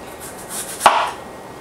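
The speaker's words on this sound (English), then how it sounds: "So what you're going to do is just finely slice these" A knife slices thin apple rounds on a cutting board for cinnamon apple chips, giving one crisp, close cut in an otherwise quiet moment.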